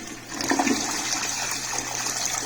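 Toilet flushing after a flapper repair, a loud close rush of water swirling and draining steadily, heard alone.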